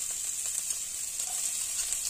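Finely chopped ginger and garlic sizzle in hot oil with a steady, bright hiss, close and even throughout, with no voices.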